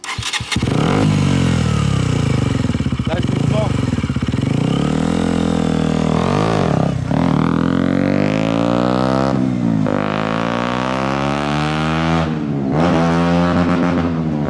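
A motorcycle engine runs loudly, revving up and down through several gear changes as it rides off, with a brief spoken phrase at the start.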